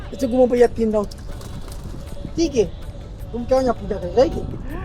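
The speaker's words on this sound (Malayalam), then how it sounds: "ഇവിടെ പ്രാവുകളൊക്കെ ഇഷ്ടം പോലെ ഉണ്ട്." Pigeons coo nearby at a Hindu temple in Fiji in low, rolling bursts that repeat every second or two, with soft background noise between calls.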